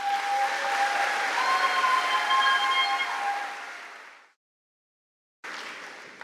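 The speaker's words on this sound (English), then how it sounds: "Now let's applaud them." Audience at a university convocation ceremony applauding, a broad steady wash of clapping that fades out, then a short silence before clapping picks up again.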